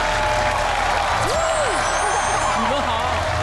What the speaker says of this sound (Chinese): 接下来就让我们用最最热烈的掌声，有请跳水世界冠军、奥运冠军何姿带领的队伍金牌队